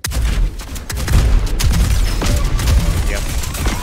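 Rapid gunfire and explosive weapon blasts from the arena shooter Diabotical, including shotgun fire, crack in dense overlapping bursts, loud and close, while players talk over the action.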